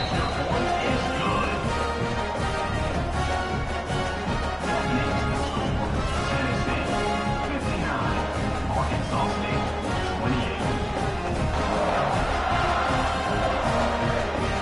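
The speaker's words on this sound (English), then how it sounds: "this crowd is feeling themselves after that last drive" Stadium crowd noise in the College Football 26 video game, a steady dense roar of cheering fans during an Arkansas State versus Tennessee matchup, running continuously beneath a commentator's voice.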